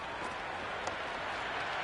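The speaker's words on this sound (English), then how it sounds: "There is an almost tangible fervour throughout the crowd at the moment." A packed stadium crowd in the Cricket 26 video game during an Ashes Test, a dense, steady roar of cheering and applause that holds at an even level throughout.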